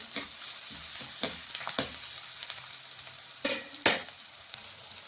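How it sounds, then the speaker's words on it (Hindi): Onions frying lightly in a pan for a stuffed capsicum dish: a soft, steady sizzle broken by scattered scrapes and clinks of a spoon stirring, nearby but quiet, with no talking. "सब्जी के लिए प्याज को ज़्यादा भूनेंगे नहीं हम, हल्का सा ही बस ब्राउन होने देंगे प्याज को"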